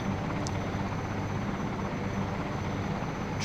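Helicopter in the SAR4 rescue simulator game, a steady, loud rotor and engine drone that holds evenly throughout with no voices.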